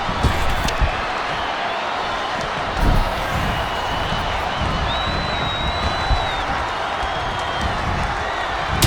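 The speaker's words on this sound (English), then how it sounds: "The roar of this crowd has been building, and they are at a fever pitch right now." Roaring arena crowd in the WWE 2K20 wrestling game during a women's match, a steady loud wash of cheering with brief swells and thumps, plus a faint whistle-like tone midway.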